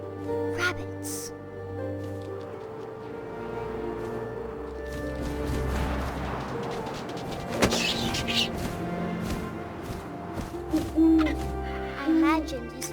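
An owl hoots several times in the video game What Remains of Edith Finch, soft low calls set against wind and ambient game sounds, with a voice narrating over parts of it.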